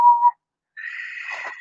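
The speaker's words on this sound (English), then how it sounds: "Can you whistle? With 2 fingers." Two brief whistled tones: a short, steady pitched note, a pause, then a longer, higher, breathier whistle that wavers toward its end. Loud and close, with no talking.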